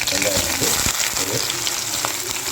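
Whole spices such as cloves and fennel sputter and crackle in hot oil in a pan, a steady close sizzle with scattered pops, lasting throughout with no voices.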